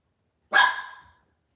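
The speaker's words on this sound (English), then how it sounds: "Sorry guys, that's my dog." A small white fluffy dog gives a single sharp bark, close and loud, ringing briefly before the room falls quiet.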